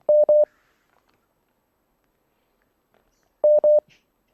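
Two short bursts of DTMF touch-tone dialing on a call-in radio quiz show, one at the start and one about three seconds later, each a quick pair of beeps separated by near silence.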